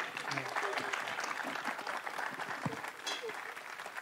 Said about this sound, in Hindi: तालियां इनके लिए हो जा रही।